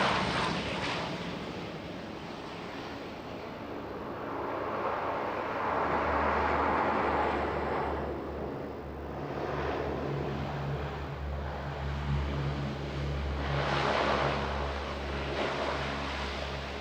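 A Hercules transport aircraft flies a short-field combat deployment demonstration at the 1994 International Air Tattoo at RAF Fairford. Its engines give a steady, broad roar that swells and fades across the pass, with a low droning hum underneath.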